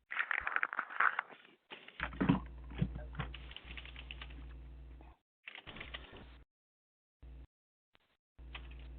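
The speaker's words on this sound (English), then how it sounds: "I hear somebody typing." Someone types on a computer keyboard during an online webinar call, a steady patter of clicking keys picked up over the call line with a low hum, stopping and restarting in short bursts.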